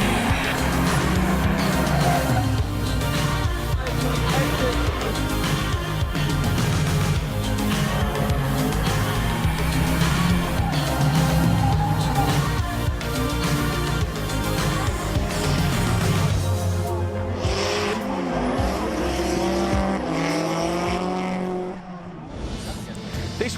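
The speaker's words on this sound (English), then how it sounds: "So, let's go drifting." Drift cars at the British Drift Championship at Lydden Hill roar continuously with screaming engines and tire squeal, loud and close throughout, easing off near the end as the noise thins.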